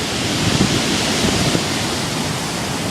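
Hurricane-force wind around 100 km/h with surf on the Isle of Man coast, a dense roaring rush of wind buffeting the microphone, loud and continuous with small gusting bumps.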